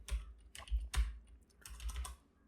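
Code being typed on a computer keyboard while writing a Vue script tag, heard as a short, close cluster of soft key presses in a quiet room.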